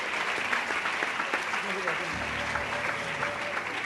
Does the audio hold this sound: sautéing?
no